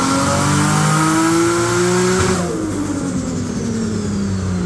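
A Toyota MK4 Supra running on E85 revs hard on a dyno, a loud sustained high-rpm engine roar that climbs in pitch and then drops off as the throttle lifts partway through.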